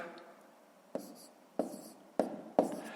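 Numbers being written by hand during a fifth-grade maths multiplication exercise, four distinct pen or pencil strokes tapping and scratching on paper at close range, each followed by a short scrape, in a quiet room with no talking.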